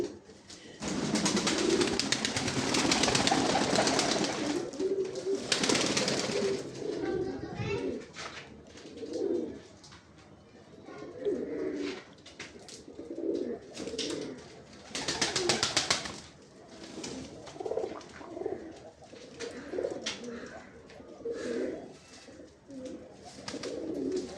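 Mayurpankhi pigeons on a pigeon farm coo in repeated soft, rhythmic bursts near the listener, with bursts of broadband noise and distant children's voices around them.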